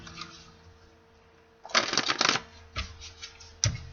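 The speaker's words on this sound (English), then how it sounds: "4 shuffles for Sagittarius, my guys." Bursts of crisp riffling tarot cards, a few quick shuffles in succession, close and fairly loud, with a quieter rustle before them.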